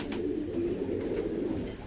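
A male blue pigeon kept in a loft gives a low, steady cooing drone at close range, continuous and unbroken for the whole stretch.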